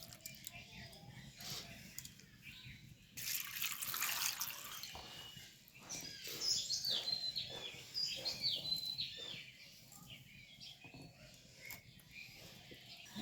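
Soaked sago pearls rinsed under a running tap for a vegetarian sabu khichuri, with a steady wash of flowing water swelling loud midway, splashing and trickling close by, and birds faintly audible in the background.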